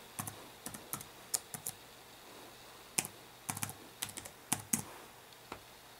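Keys tapped on a computer keyboard while entering a password, irregular clusters of close, crisp clicks with short pauses between bursts, quiet room and no talk.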